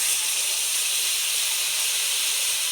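Water added to a hot pan of fried Maggi masala, a loud, continuous hissing burst of steam and sizzle that stays even for a few seconds, close up with no speech.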